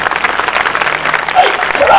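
Brief burst of congregation clapping during a Hindi Christian sermon, fairly loud and continuous with a preacher's voice heard over it.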